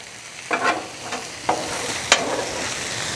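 Onions sizzling and being stirred on a Blackstone griddle: a steady frying hiss broken by a few scraping spatula strokes, close and moderately loud, with no talking.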